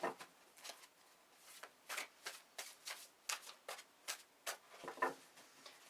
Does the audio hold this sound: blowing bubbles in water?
no